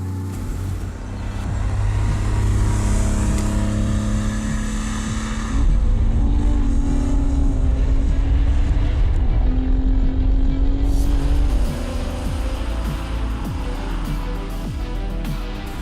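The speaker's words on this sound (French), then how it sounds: "Et monter en régime, je change mes vitesses un petit peu plus de 6000 tours." A 1984 Porsche 911 Carrera engine revs hard and climbs through the gears, shifting just above 6000 rpm, pitch rising then dropping at each shift, loud and close throughout.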